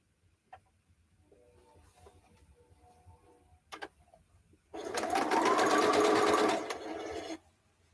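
A sewing machine stitches quilt blocks together in one close, steady run of about three seconds, preceded by a few quiet clicks and handling sounds.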